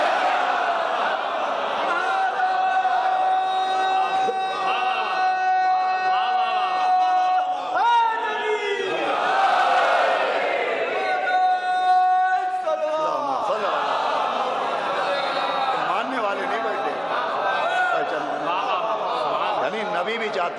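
A large crowd at a majlis chants religious slogans together, loud massed voices rising and falling in rhythmic waves with shouted calls and responses filling the space throughout.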